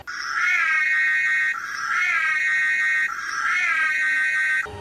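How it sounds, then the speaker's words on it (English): Loud electronic siren alarm from a Ghostbusters hearse in LEGO Worlds wails in three repeated rising-and-falling cycles, each about one and a half seconds long, before it cuts off abruptly. "the alarm is really loud"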